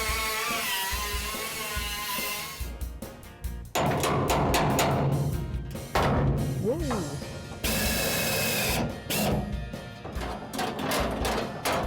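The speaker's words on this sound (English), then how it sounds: "So now we got to kind of grind that off so we could be able to pull out this whole pocket right there." An angle grinder cuts down a fat tack weld on a Yenko Camaro quarter panel in a restoration shop, loud harsh grinding in bursts that stop and restart, with voices talking between passes.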